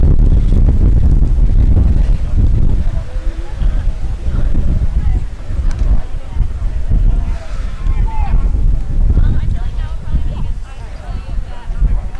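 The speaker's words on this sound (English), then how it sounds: "The wind is starting to pick up here in Shanefield again" Cold wind gusts across a baseball field in Shanefield during a varsity game, a loud, continuous low rumble buffeting the microphone under a commentator's voice.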